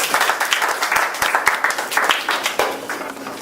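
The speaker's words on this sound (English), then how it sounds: "So let's welcome her with big applause." A room full of people at a Toastmasters meeting clapping steadily, sharp individual claps standing out within a dense round of applause that holds for a few seconds.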